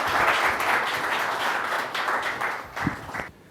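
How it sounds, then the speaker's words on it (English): An audience gives a warm round of applause to welcome a speaker at a coffee sustainability talk, a full, even patter of many hands that fades out toward the end. "So please give us a round of applause and welcome Baba."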